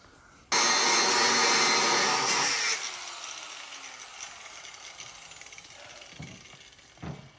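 Ratchet undoing car nuts: a loud mechanical whirring burst starts abruptly, holds for about two seconds, then fades into quieter clatter with a couple of sharp knocks near the end.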